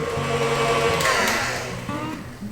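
An electric mixer runs steadily on low, beating cream cheese icing in a closed bowl, a continuous close whir with a slight pitch shift as it works.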